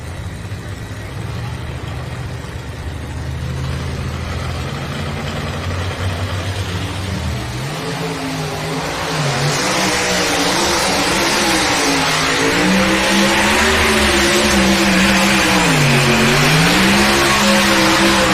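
A 2024 Ford Ranger pulling truck revs hard at a truck and tractor pull in Bowling Green, Ohio. The loud engine climbs and wavers in pitch as it builds, growing louder and rougher toward the end, with an announcer talking over it.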